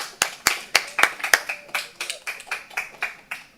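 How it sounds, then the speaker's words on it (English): Meeting attendees at a planning and zoning board meeting give a short round of clapping, a handful of people's claps in quick irregular succession, close and fading after a few seconds. "Okay, let's clap."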